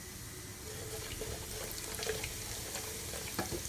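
Whole spices sizzle in hot oil inside a cooking pot (handi), a steady crackling hiss with small pops throughout.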